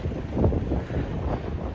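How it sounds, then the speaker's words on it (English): Steady wind buffeting the microphone on top of a hill in Lévis, Quebec in December, a low continuous roar that rises and falls slightly throughout. "it's windy too"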